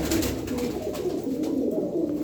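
Arabian pigeons coo steadily and closely, with dense overlapping calls and soft flutters against a busy, constant background.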